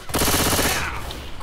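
Rapid automatic gunfire from the zombie shooter game Left 4 Dead 2, a dense loud burst of shots that fades into a rattling tail over under two seconds.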